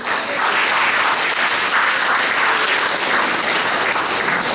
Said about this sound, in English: Can you give a hand applause, please?